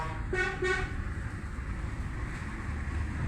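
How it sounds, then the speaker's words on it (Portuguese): A truck horn sounds in the dark of a forest, two short blasts close together at the start, then fading into a low rumbling background with no voices. "Isso é buzina de caminhão."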